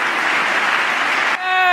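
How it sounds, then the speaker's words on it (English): A studio audience claps in a dense, steady burst that stops abruptly, followed by someone talking. "Yes, let's all clap this."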